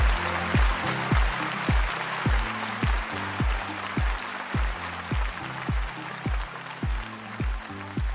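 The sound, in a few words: canned applause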